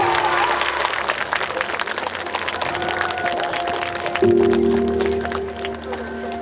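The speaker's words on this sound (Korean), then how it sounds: "큰 박수 부탁드립니다." A festival crowd at an opening-ceremony martial arts board-breaking performance applauds loudly and steadily, many hands clapping together, while a sustained tonal sound, like a bell or music, rises partway through.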